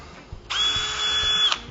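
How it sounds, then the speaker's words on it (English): A power drill bores into a PortaAir door frame, one short whining burst of about a second after a brief pause, close and fairly loud. "So you just go ahead and drill"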